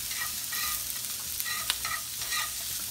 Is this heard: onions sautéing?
yes